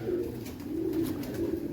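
White pigeons cooing in soft, repeated throaty phrases, close by and fairly quiet, three rolling coos in quick succession.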